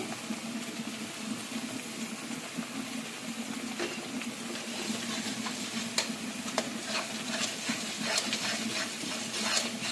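Spiced curry with turmeric, cumin and coriander powder frying in a pan is stirred, giving a low sizzle with occasional scraping clicks, fairly quiet and steady.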